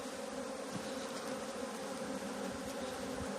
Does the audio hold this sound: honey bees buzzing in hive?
yes